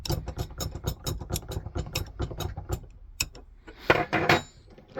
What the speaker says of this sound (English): Rotate the crankshaft so that the piston is going just over top dead center, backwards and forwards a few times to compress the solder wire.